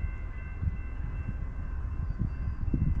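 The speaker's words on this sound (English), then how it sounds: "The train at the crossing and the gates aren't even fully down yet." A Norfolk Southern train rolls through a railroad crossing as the gates come down, a loud continuous rumble with rhythmic wheel thumps and faint high tones from crossing bells.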